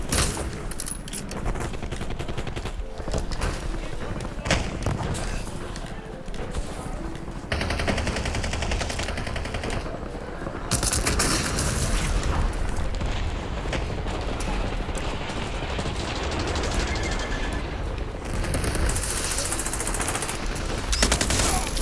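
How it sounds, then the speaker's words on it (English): Sustained video game gunfire, dense bursts of automatic weapon fire and scattered shots crackling continuously at high intensity throughout, with a brief shift in the mix partway through. "Taking fire over here."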